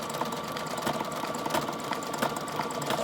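Sewing machine running a steady zigzag and back stitch through a paper Valentine envelope and its flap, a fast continuous mechanical chatter up close with no talk.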